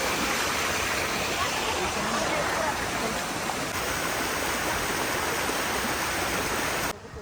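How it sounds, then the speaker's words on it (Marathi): A small jungle waterfall rushes in a steady, loud, broadband roar that continues without a break and drops off abruptly near the end. "इथं बघा धबधबा आहे"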